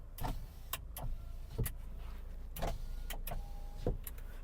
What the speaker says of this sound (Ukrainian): склопідйомники працюють